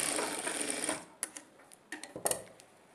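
Sewing machine running steadily while top-stitching a folded edge on a blouse, then stopping, followed by a few faint handling clicks and taps.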